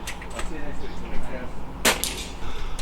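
On an outdoor range, airgun pellets strike targets as a few sharp cracks and snaps. One shot is louder and closer than the rest, and a faint background murmur sits beneath them.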